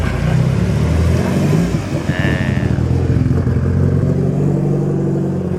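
A Nissan GT-R engine running on E85 roars steadily and loudly, with a rising rev partway through and a brief high whine, heard up close.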